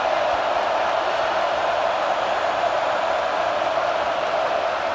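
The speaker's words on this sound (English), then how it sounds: "Listen to this crowd just shaking the girders of this place" A stadium crowd in a college football video game roars as a dense, continuous wash of noise, loud and sustained throughout with no distinct voices standing out.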